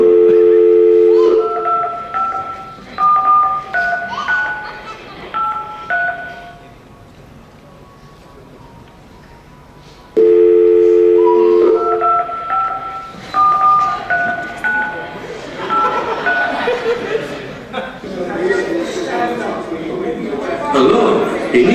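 Telephone tones sound during a 2013 Christmas stage drama: short stepped electronic dialing beeps and a busy signal, played twice with a quiet gap between, alongside people talking.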